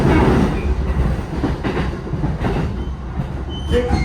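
A JR East Keiyo Line local train rolls into Nishi-Funabashi, with a loud, close rumble of wheels on rails, rhythmic clickety-clack of joints and a brief squeal near the end as it slows.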